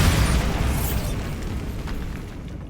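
A Bombarda spell detonating in the video game Hogwarts Legacy: one loud, deep, booming blast that rolls out and slowly fades over a few seconds, with no voices.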